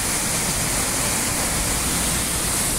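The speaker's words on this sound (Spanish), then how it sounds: "se levanta una neblina que ustedes pueden ver, que es precisamente producto de acá, de la cascada del agua" A waterfall in Chile's Araucanía region drops about 22 metres into a river, raising mist. It makes a steady, loud, close roar of rushing water with no break.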